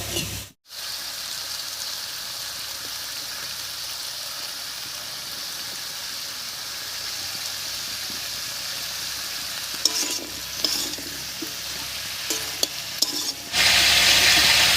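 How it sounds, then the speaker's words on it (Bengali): Vegetables with salt and turmeric frying in a pan for a dried-fish dish, a soft steady sizzle with stirring scrapes, briefly cut near the start and swelling louder at the end, no talking. "সবজিগুলোকে একটু ভাজা ভাজা করে নেবে"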